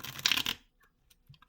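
A new tarot deck is shuffled by hand, a short close riffle of crisp card flicks lasting about half a second, followed by a few faint taps and near silence.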